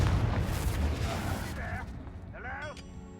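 A Confringo blasting spell in Hogwarts Legacy sets off a broad, rumbling explosion that is loudest at the start and slowly fades, while a voice speaks over the dying rumble.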